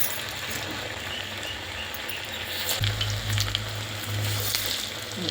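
Cowpea vadas, made from fresh green cowpeas and patted flat by hand, sizzle and bubble in hot oil, a steady close frying hiss that thickens partway through as more batter goes in.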